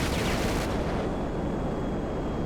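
Gunfire explosions from an F-15C Eagle jet in GTA 5, a loud, dense rumbling barrage that eases slightly after a brief sharper start.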